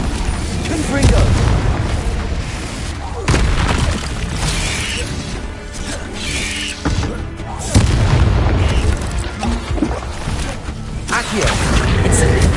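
Confringo blasting spells explode in Hogwarts Legacy, a string of loud booming blasts and crashes over continuous game sound and background music.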